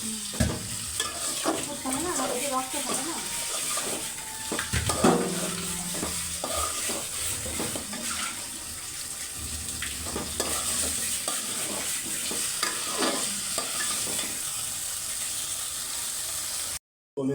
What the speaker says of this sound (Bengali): কলিজাটা ভালো মতো কষাই নিব